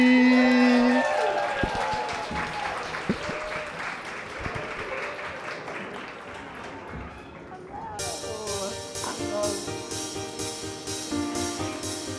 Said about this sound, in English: Start clapping right now for Lori.